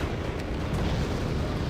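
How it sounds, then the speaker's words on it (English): Artillery explosions in the video game Wargame Red Dragon, played on open terrain: a dense, continuous low rumble of blasts that fills the whole moment at steady loudness, with no speech over it. "You see this big, giant bleeding explosions."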